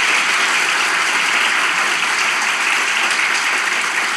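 A large theatre crowd at Kadıköy Duru Theatre applauding, a loud, dense and continuous wash of clapping that holds steady throughout with no talking.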